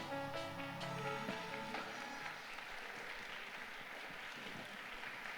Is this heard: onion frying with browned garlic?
no